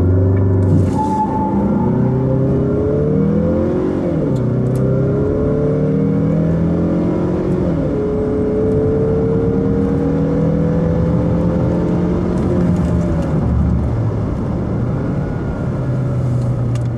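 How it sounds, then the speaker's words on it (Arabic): A 2017 Mazda CX-9 SUV under full-throttle acceleration in sport mode, engine droning loud and close as its pitch rises steadily through several gear changes, with a continuous rumbling cabin roar. "نحن حنشوف الان تسارع ونشوفوا كم حتجيب السياره التسارع"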